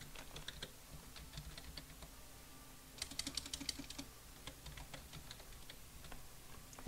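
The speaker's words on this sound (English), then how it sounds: "I'm aware they can use my keyboard smashing" Computer keyboard typing in quick irregular bursts of clicks, with a denser flurry of rapid keystrokes in the middle, close and fairly quiet with no voices.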